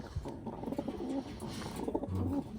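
Wantai pigeons cooing softly amid a busy bird-selling background, repeated low coos rising over steady noise, fairly faint and close.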